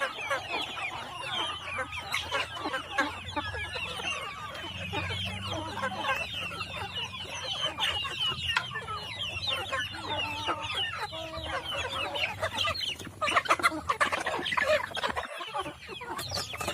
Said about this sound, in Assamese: ইহঁতক কিছুমান ক্ৰছ কৰাইছোঁ, লোকেল আৰু অলপ ডাঙৰ প্ৰজাতি কুকুৰা কেইটা আছে মোৰ লগত।